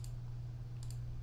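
Computer keyboard keys click faintly and sparsely, a few soft taps heard close over a steady low electrical hum.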